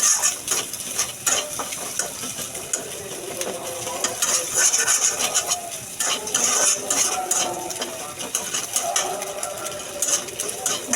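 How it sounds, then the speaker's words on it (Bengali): An egg frying in a pan alongside chopped watermelon rind, giving a steady, fairly loud crackling sizzle with frequent spatula scrapes and stirring clinks throughout, no talking. "ডিমটা এখন ভেজে নেব"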